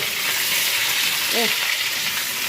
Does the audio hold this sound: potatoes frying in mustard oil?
yes